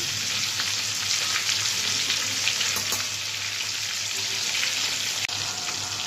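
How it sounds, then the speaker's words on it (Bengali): Pangas fish frying in hot oil, a loud, steady, close sizzle with crackling spits throughout, continuous with no voices and a brief knock near the end. "মাছগুলোকে আমি তেলের মধ্যে ছেড়ে দিলাম, এপিট ওপিট করে একটু ভেজে নিই।"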